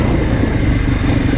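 A 2024 Beta 430 Race dirt bike engine runs with a loud, steady, rough drone close by, without any break.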